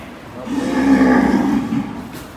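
A cow coming round after an operation lets out one long, loud moo that swells and fades over about two seconds, close by.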